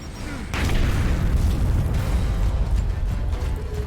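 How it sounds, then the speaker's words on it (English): A grenade thrown and detonating in a video game, a sharp onset giving way to a loud, sustained rumbling blast that fills the rest of the moment, close and heavy. "Let me throw the grenade first."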